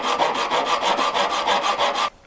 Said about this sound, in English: First, file the end completely flat